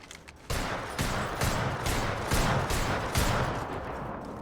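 Rapid gunfire in the shooter video game Apex Legends, a sustained burst of shots that starts abruptly and keeps going at a steady, dense rhythm, loud and close, with no voices.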